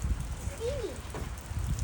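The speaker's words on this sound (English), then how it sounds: "Here comes the rain." Rain sets in over a garden after a hot day, with hail storms reported nearby: a steady, fairly loud outdoor hiss and patter with wind rumble and a brief thin whistling tone partway through.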